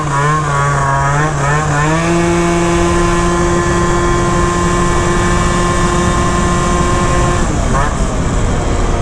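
A Yamaha Phantom F12 scooter with a 70cc big-bore engine build, NCY pulley and variator revs loudly and steadily, its pitch sweeping up, holding a sustained high whine, then dropping away near the end.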